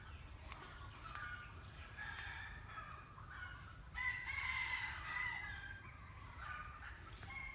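A rooster crows faintly at a distance on a Thai bamboo and lime orchard farm. A drawn-out call rises a few seconds in over a low outdoor background hum.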